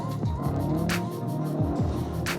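Rally cross cars racing around a dirt track, with a steady engine roar and gear-shift pitch sweeps from a nearby car, plus brief tire scrubs or gravel spray, loud and continuous.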